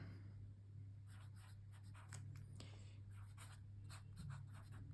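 A Kaweco Collection Cyan fountain pen scratches across paper in short, quiet strokes and bursts, close and soft against a low steady hum in the background.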